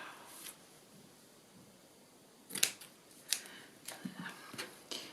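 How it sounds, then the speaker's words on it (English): Scissors snip a piece off a vintage lace tag: a few quiet, sharp cuts clustered in the second half, with soft rustling between them and no talk. "I'm going to cut that bit off."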